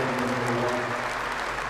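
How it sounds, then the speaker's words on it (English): Stadium crowd at Headingley, the Leeds rugby league ground, applauding in a seventh-minute tribute, a dense, sustained roar of clapping heard alone and fairly loud throughout. "A 7th-minute round of applause."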